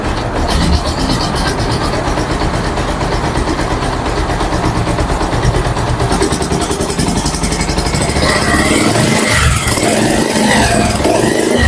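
A Pulsar 150cc motorcycle, new model with about 6,486 km on it, runs steadily at idle nearby, a continuous even engine drone filling the whole stretch with no talk over it.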